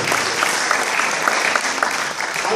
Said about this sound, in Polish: myślę, że oklaskami powinniśmy ją nagrodzić